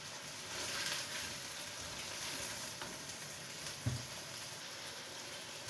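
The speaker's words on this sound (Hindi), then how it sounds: "अब इसमें मैं लहसुन अदरक डाल दूंगी। इनको 1-2 मिनट के लिए फ्राई कर लूँगी।" Garlic and ginger fry in a pan, a faint, steady crackling sizzle throughout with one soft knock partway through.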